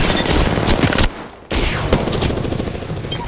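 Rapid automatic gunfire in the Apex Legends video game, loud and close. Dense bursts break off for a brief half-second pause, then resume as a steady rattling stream.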